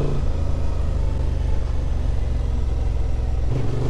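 A 2023 Honda XL750 Transalp motorcycle climbs an off-road trail in first gear with the clutch feathered, its engine giving a loud, steady low rumble that lifts slightly near the end.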